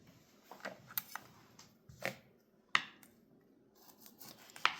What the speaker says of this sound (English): So let's get these tomatoes cut up.